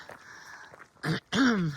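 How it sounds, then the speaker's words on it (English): A hiker on the Appalachian Trail clears their throat twice, close and fairly loud, with a quieter breathy lead-in. "clear my throat"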